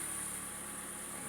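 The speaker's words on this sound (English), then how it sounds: "warming up the engine" A Mazda Skyactiv car engine idles steadily while warming up, a continuous low hum with a faint high-pitched whine, nearby and unbroken for the whole stretch.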